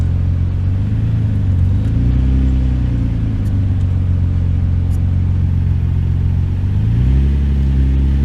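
A Nissan 350Z with a high-engaging clutch pulls away, its engine droning steadily with a low rumble and pitch that dips and rises as the clutch takes up, loud and close throughout with no voices.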